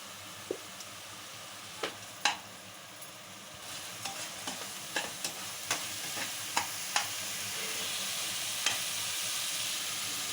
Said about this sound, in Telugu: అల్లం వెల్లుల్లి పేస్ట్ పచ్చివాసం పోయే వరకు ఆయిల్లో ఫ్రై చేసుకోవాలండి